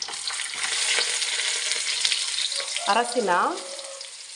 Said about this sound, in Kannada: ಕರಿಮೆಣಸು, ಲವಂಗ, ಚೆನ್ನಾಗಿ ಫ್ರೈ ಮಾಡಿ.